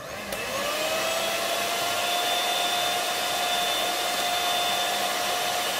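Electric mixer whipping dalgona matcha, a steady loud motor whine with a sustained tone running unbroken for several seconds, no voices.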